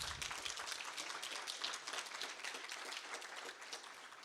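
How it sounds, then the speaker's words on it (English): Audience applause for the quiz masters at a network operators' conference, a dense, steady wash of many hands clapping that holds for several seconds at even loudness with no talk over it. "Let's have another round of applause for the quiz masters."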